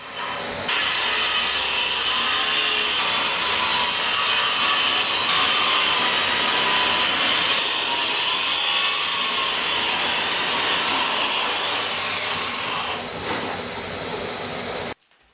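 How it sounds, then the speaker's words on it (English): Angle grinder fitted with a dust cover and hooked to a vacuum cleaner cuts a chase into a stone house wall, a loud continuous high whine and roar that runs steadily for the whole stretch before stopping abruptly at the end. "I lined up the angle grinder with a cover, hooked up to a vacuum cleaner and started cutting in the wall"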